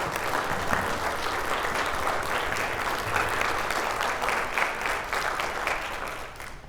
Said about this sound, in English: So can we please give them a round of applause?